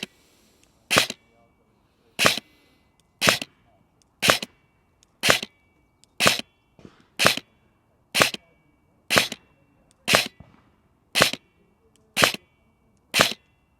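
A Cyma CM.009E XM177 airsoft rifle fires 0.28 gram BBs down an outdoor range in twelve sharp single shots spaced about one second apart, each a crisp snap, no talking.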